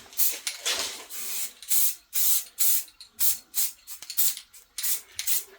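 Short bursts of spray paint hiss in light dusting coats onto a car's rear light lenses, about a dozen quick, close passes in an irregular rhythm with brief gaps between them.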